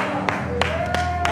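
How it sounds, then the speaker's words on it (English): A church congregation claps their hands together in a steady beat, loud and close, with several sharp claps sounding over continuous crowd noise and voices. "Give God a hand clap."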